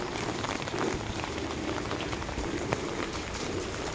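Rain falls during a walk through a Davao City subdivision, a dense, even hiss of drops hitting surfaces nearby, constant and fairly loud.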